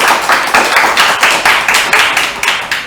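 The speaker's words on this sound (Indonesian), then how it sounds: "Beri tepuk tangan dulu dong, pemirsa." Audience at a green campus event clapping in a steady, unison rhythm, loud and close, about a dozen evenly spaced beats with no voices over them.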